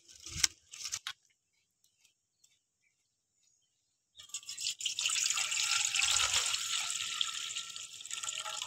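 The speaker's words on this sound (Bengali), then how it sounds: "আতপ চালটা ধুয়ে নেবো।" Sun-dried rice is washed in water, a brief splash and clatter, then quiet, then a sustained close sloshing and swishing of grains being rubbed in water.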